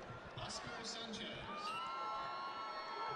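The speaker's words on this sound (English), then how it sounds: "cheering that you'll hear during these matches, it does not necessarily coordinate with what you're seeing" Distant crowd noise at a high school state wrestling tournament semi-final, a faint, continuous murmur with scattered shouts and whoops in a large arena.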